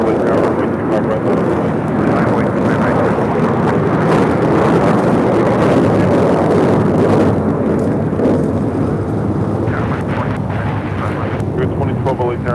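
A Boeing 737 jet airliner on final approach at LAX roars loud and steady throughout, a broad engine rumble with a voice talking over it.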